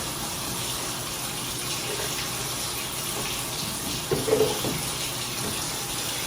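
Water running into lemon juice for a drink, a steady close gush of pouring or tap water with a brief louder splash near the end, no talk.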